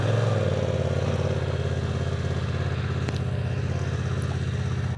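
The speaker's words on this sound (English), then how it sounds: "Nice reassuring burble, sounds lovely, doesn't it?" A 2025 BMW F900R motorcycle engine burbles steadily at idle, a close, loud, even low throb that continues without a break.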